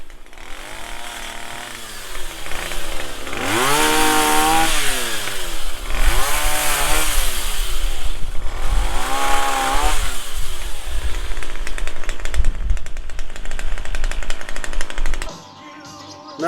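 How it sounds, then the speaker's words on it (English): A small chainsaw cuts through a tree trunk outdoors at a country house in France, its engine loud and close, rising and falling in pitch with each pass before cutting off abruptly near the end. "Good fun with my little chainsaw."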